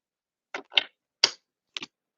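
A few quick crisp riffles of cards, two short bursts, a pause, then another snappy burst, close by with no talking.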